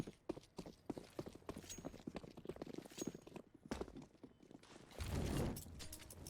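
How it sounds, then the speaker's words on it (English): Rapid footsteps patter in a Counter-Strike match on the Vertigo map, a dense, fast run of quiet clicks with scattered game noise and a louder rushing burst near the end. "as they can hear the footsteps"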